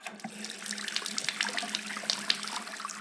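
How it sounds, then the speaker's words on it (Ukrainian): Water running steadily from a tap while an apple is washed under it: a continuous close splashing hiss with small bright spatters throughout, no talk. "Так, треба помити яблуко."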